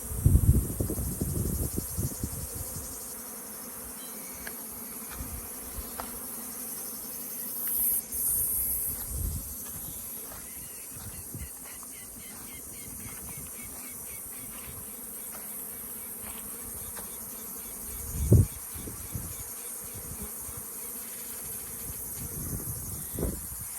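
A steady, dense hum of many honeybees buzzing continuously at a hive, with occasional louder passes as individual bees fly close to the microphone.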